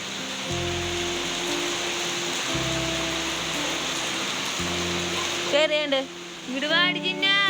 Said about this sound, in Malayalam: ആ സമയത്താണ് പെട്ടെന്ന് മഴ വന്നത്